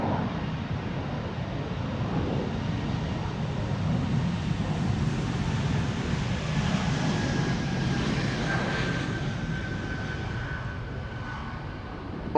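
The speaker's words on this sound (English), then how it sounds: "Bombardier C-Series 300." An Air Baltic Bombardier C-Series 300 jet departs Amsterdam Schiphol Airport with a sustained broad engine roar, a rising whine toward the end, and some wind buffeting on the microphone.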